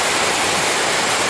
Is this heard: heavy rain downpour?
yes